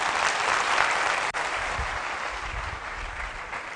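Steady applause from a seated audience at a network marketing training seminar, a continuous even patter of many hands at moderate volume, with a brief dip partway through before it carries on.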